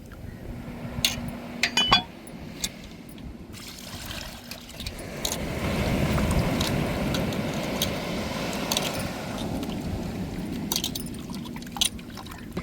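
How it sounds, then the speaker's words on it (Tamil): Water pours and splashes in bursts over stingray fish pieces in a container as they are rinsed, with a few sharp clinks early on and quieter trickling toward the end. "இப்போ தண்ணியை ஊற்றி அலசிக்கிடுவோம்"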